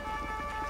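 A police siren in the video game GTA 5 wails steadily at close range with sustained tonal bands, loud and continuous over a low engine rumble.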